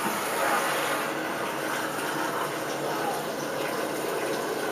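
Tap water pours steadily into a cooking pot for spaghetti in a home kitchen, a close, continuous rushing hiss that holds level throughout.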